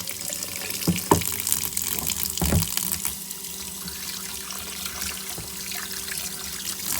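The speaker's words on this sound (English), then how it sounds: "So I'm going to get the water turned on." Tap water runs steadily into a sink for several seconds, a continuous broadband hiss with a couple of brief clunks near the start, close and moderately loud with no talking.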